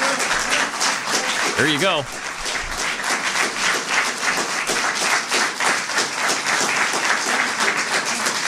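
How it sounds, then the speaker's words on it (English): Applause and clapping from an audience at a political speech by a state attorney general, a steady dense wash of hands that runs through the whole stretch with a voice briefly speaking over it. "Too much clapping."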